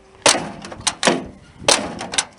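Car doors on an old Chevrolet Suburban slammed shut in a junkyard, three sharp loud bangs in quick succession with a short rattle after each, close by and with no talking.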